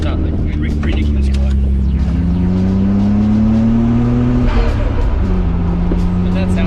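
A Nissan R32's engine revs hard up close, its pitch climbing steadily, dropping at a shift, then pulling again with a loud, continuous drone.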